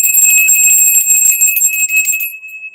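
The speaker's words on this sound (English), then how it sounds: "I'm going to clear the energy here, the solar plexus bell" A bright metallic solar plexus bell rings out with a sustained, shimmering high tone that lingers and slowly fades.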